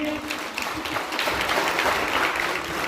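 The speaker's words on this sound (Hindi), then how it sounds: "मोहतरमा रीता ठाकुर जी, तालियां बजाइए।" Audience applause for DDC member Reeta Thakur at a girls' health event, steady dense clapping at moderate level filling the whole stretch without pause.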